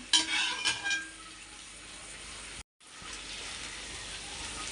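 Chickpeas stirred in a pan, giving soft scraping and light sizzling that is loudest at the start, then a brief cut and a quieter continued hiss.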